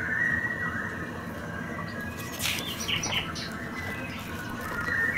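A faint, distant whinny from a small horse rises over soft wing flutters and light bird chirps in a quiet outdoor setting.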